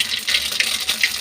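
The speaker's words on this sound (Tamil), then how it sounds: "இப்போ இந்த தண்ணியெல்லாம் நான் வடித்து எடுத்துடுறேன்" Cooked cluster beans being drained, water pouring off them in a steady splashing hiss that swells and dips in several short surges, close and alone.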